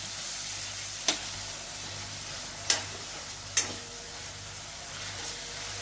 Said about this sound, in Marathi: इथं आपल्याला कोलंबी परतून घ्यायच्या चांगल्या तेलात।